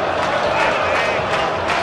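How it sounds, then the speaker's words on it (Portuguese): A football stadium crowd roars wildly during a Palmeiras versus Sport Série A match, a loud, continuous wash of cheering and shouting with a commentator's voice faintly underneath. "a torcida enlouquecida"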